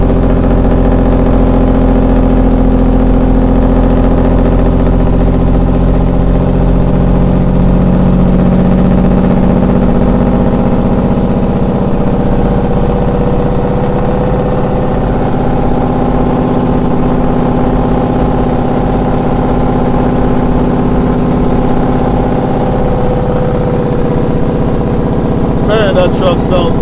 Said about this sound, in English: Man, that truck sounds good.